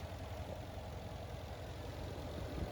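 A 2015 Mercedes-Benz ML 63 AMG with its handmade 5.5-litre V8 idles steadily, a constant low rumble with no voices over it.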